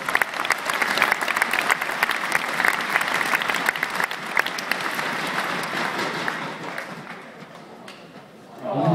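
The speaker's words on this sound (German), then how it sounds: "Halt, wir müssen noch mal klatschen" Spectators clapping at a badminton show match at the German Open, dense sustained applause from a crowd in an indoor hall that thins out and fades near the end.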